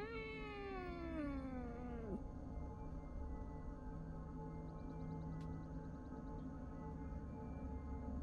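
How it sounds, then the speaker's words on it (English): A cat in the horror video game Fears to Fathom lets out one long, drawn-out meow that slides downward, over a steady low ambient hum, with faint chirping later. "Oh, it's a goddamn cat."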